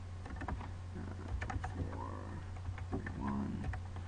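Keys on a TI-83 calculator are pressed as data is entered, a scatter of soft, quick clicks in irregular rhythm, close but faint over a low steady hum.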